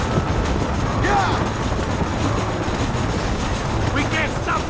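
A train rumbles along steadily in the Red Dead Redemption video game, a loud, continuous rolling clatter with shouting voices mixed over it throughout.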